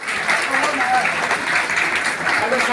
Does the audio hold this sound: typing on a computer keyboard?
no